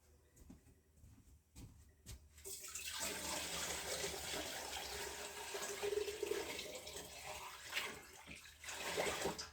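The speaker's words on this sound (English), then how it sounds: "Now let's get some water in there." Tap water gushes from hot and cold taps at full strength into a canning pot over two-quart jars of green tomatoes, a loud broadband rush that starts abruptly after a few faint clunks and keeps splashing steadily.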